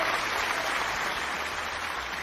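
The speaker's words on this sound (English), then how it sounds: "Give yourself a round of applause." A short round of applause, a steady, even hiss of many clapping hands that stays level for a couple of seconds, moderately quiet and without voices.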